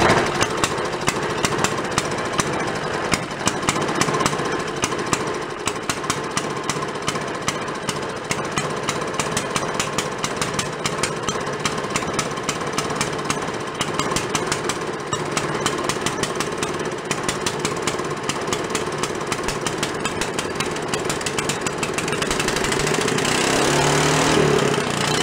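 An antique Briggs engine runs steadily at a fast, rattling putter. The loud mechanical chatter holds an even rhythm throughout, with a slight shift in tone near the end.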